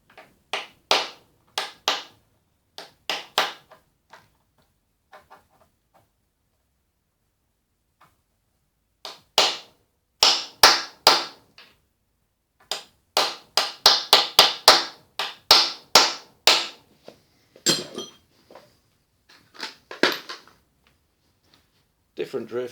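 A 2.5-pound hammer drives a drift against a cam bearing in the crankcase of a 1979 Harley-Davidson XLH1000 Ironhead, giving sharp metallic strikes in quick bursts. There is a quiet pause, then a longer run of hard, close, rhythmic blows.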